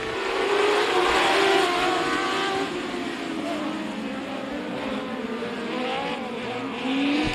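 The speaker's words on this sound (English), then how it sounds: "our first of 2 TKO Construction and Renovation Dwarf Car Heat Races." Dwarf cars roar through a heat race at Kennedale Speedway in a steady, loud blend of engine drone that rises and falls as the cars pass.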